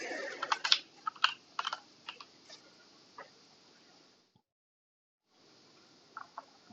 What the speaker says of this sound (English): I apologise if for the mouse clicking and buttons is a bit jarring